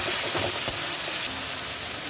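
Spice paste sizzles and spits in hot oil in a pan while a fish curry with koi fish is being cooked, a steady, close, crackling hiss with one brief sharp pop partway through and no talk.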